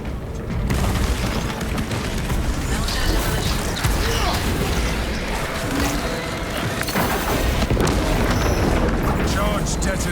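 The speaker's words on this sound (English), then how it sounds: "Charge detonated. Tyranids destroyed." A melter charge detonates in the video game Warhammer 40,000: Space Marine 2, a sudden loud blast opening into a sustained roaring, rumbling barrage of explosions with game voices beneath.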